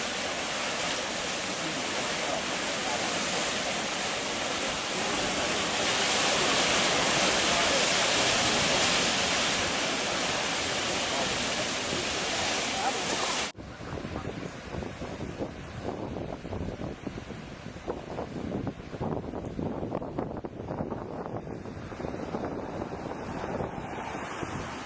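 Ocean surf at the Bar Harbor blowhole in Acadia, Maine, at low tide, a constant broad roar of waves mixed with heavy wind buffeting the microphone, loud and unbroken, with the texture shifting partway through.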